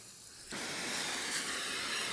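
A sink sprayer set to its flat pattern bursts on after a brief quiet moment. It then keeps up a close, continuous hiss of spraying water to the end.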